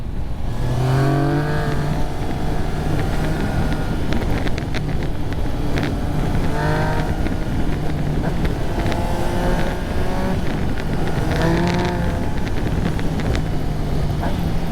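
A Yamaha MT-09 900cc motorcycle ridden on the road, its engine note climbing repeatedly through gear changes, with loud wind rush over the microphone and no talking.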